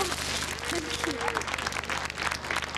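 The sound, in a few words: applause for winners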